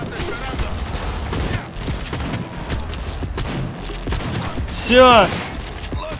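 Shotgun blasts in the Cyberpunk 2077 video game ring out as dense, repeated gunfire amid busy combat noise, with someone talking over the action.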